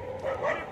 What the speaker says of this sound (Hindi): ओ भाई कुत्ते भी भौंक रहे इधर तो